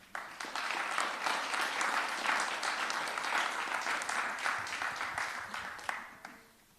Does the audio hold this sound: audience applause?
yes